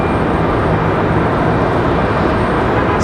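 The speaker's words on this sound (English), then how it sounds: "Dang, SkyWest swerving down the runway" A SkyWest airliner swerving down the runway at Raleigh-Durham International Airport, heard as a steady, loud, broadband jet engine roar that holds constant throughout with no voices.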